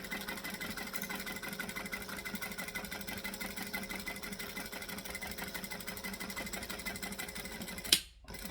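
Domestic sewing machine stitching and backstitching through layers of vinyl, a continuous close, fast mechanical whirring with a rapid needle pulse, ending in a brief thump and a short pause.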